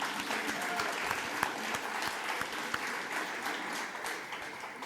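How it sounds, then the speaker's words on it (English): Audience applause for startup presenters at an evening venture competition showcase, a steady dense wash of many hands clapping for about five seconds with a few sharper claps standing out. "Big round of applause, everybody."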